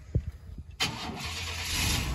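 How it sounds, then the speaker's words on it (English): Ford F-150 pickup engine firing up after a few faint clicks, catching abruptly and settling into a steady close idle, with no talk over it. "We got the truck on."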